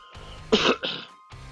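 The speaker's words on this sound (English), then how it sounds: "had to clear my throat there" A single close, throaty clearing of the throat in two quick bursts, loud against a quiet room.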